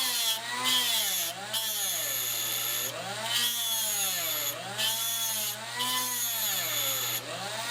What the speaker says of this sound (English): we can start a little bit of a relief here with a Dremel tool